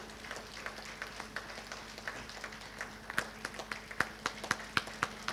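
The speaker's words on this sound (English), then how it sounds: "Huge round of applause, ladies and gentlemen," Thin, sparse clapping from a small ceremony audience at an official inauguration event, faint and scattered at first, then growing into distinct individual claps toward the end.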